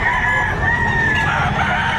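A rooster crows loudly and continuously at a livestock auction market in Padre Garcia, Batangas, its drawn-out call filling the moment with no talk over it.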